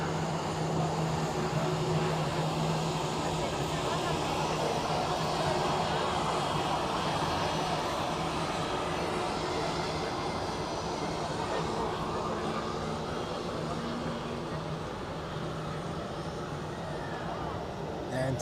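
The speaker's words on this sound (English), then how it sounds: "this Edelweiss A320 inbound from Paris Charles de Gaulle, flying for Swiss apparently." Edelweiss Airbus A320 jet arriving at Zurich Airport from Paris Charles de Gaulle, a continuous loud engine rumble and rushing roar that fades slightly toward the end.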